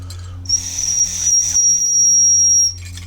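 A soapstone two-fish whistle from Canada gives one steady, piercing high tone, held for about two seconds with slight wavering, loud and close, with no talking.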